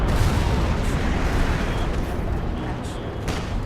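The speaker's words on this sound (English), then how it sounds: "Now, barrage again." Artillery barrage in a Company of Heroes 2 4v4 match, a continuous rumbling roar of blasts that fills the whole stretch at fairly loud level, with a commentator's voice mixed in.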